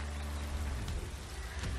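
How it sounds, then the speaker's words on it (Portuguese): Rain falling steadily during a motocross race in the video game MXGP3, a dense continuous hiss over a low engine drone with no pauses. "mas tá chovendo"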